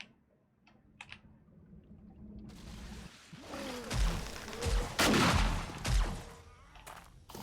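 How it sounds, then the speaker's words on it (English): Gunfire in the survival game 7 Days to Die: quiet keyboard clicks at first, then a loud stretch of rapid shots and booming impacts that fades after a few seconds. "I just assume they're in there and start shooting"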